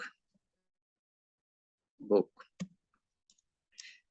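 A few sharp, faint computer mouse clicks, widely spaced in otherwise near silence, heard alone in a quiet room.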